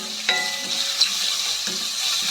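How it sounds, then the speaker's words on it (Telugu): Grated ridge gourd peel and coriander stems lightly fry for pachadi, giving a soft, even sizzle with a couple of sharp utensil clicks, close and free of talk. "ఇదంతా మంచిగా తురిమి దీంట్లోకి వేసేసానండి నేనైతే కొంచెం లైట్గా ఫ్రై చేయాలండి"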